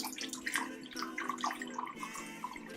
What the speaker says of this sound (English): So I'm going to put the water into the bowl here.